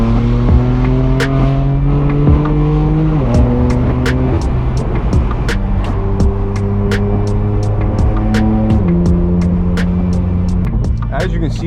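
Straight-piped BMW M4 F82 exhaust roars loudly on a highway, with steady engine drone, rising pitch through each gear and abrupt drops at shifts, plus sharp crackles and pops scattered throughout.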